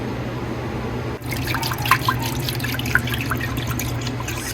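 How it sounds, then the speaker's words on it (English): Fresh lemon juice squeezed straight into milk in an Instant Pot to make homemade paneer, with a steady run of soft drips and small liquid splashes over a low background hum. "Squeeze the lemon directly in the milk"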